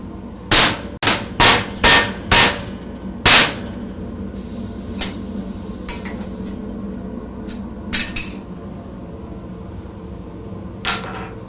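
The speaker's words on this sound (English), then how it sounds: "little hammer." A small hammer taps hard and close, five quick sharp strikes in a row and then one more, before a few softer, scattered knocks over a quiet background.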